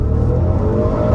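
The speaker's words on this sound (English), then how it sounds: "The way it like just barely bounced off the rev limiter and then that ZF 8-speed just rockets into the next gear is unbelievable" An Audi RS7 with a ZF 8-speed gearbox at full throttle, its engine roaring loud and close in a brief burst, the pitch climbing sharply as it nears the rev limiter.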